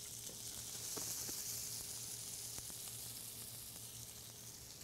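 Gnocchi fry in oil in a pan with a steady, close sizzle that holds for the whole stretch, with a few faint clicks and stirring touches and no talk.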